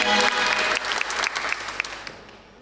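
A talk-show studio audience applauds for a singer, a dense burst of clapping that tapers off toward the end.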